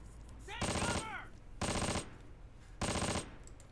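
Three short bursts of rapid automatic gunfire, evenly spaced about a second apart, crackle through the World War II video game Close Combat: Panthers in the Fog, with quieter battlefield noise between them.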